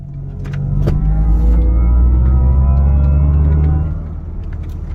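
A Mercedes-AMG running the Dynamic Plus performance sound pulls away again, a strong rising engine drone swelling over roughly three seconds, then easing off into a low idle-like rumble.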